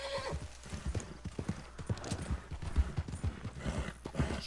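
Hooves clip-clop in a quick, uneven rhythm as a horse moves along in Red Dead Redemption 2, with a brief whinny; fairly quiet and close.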